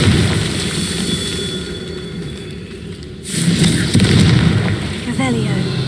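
A Confringo blasting curse detonates in Hogwarts Legacy with a sharp, loud boom after a brief lull, then rolls into a sustained roar with crackling debris; a voice speaks around it.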